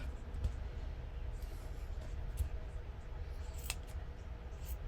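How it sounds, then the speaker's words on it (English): Dull scissors snip tassel threads a few times, sharp little clicks scattered over a steady low background rumble, close by and quiet. "Those scissors aren't sharp."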